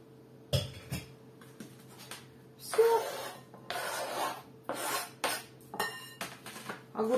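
Sharp knife chops through fermented vegetables on a cutting board, several uneven strokes in close succession, with a few clinks of dishes in a quiet room.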